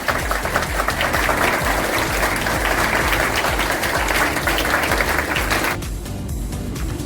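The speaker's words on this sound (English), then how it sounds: "there should be a round of applause for everyone" Loud, sustained applause from an audience at a camp closing ceremony, a dense wash of clapping that runs steadily for most of the span and then drops off abruptly near the end.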